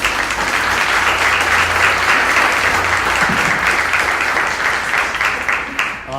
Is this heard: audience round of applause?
yes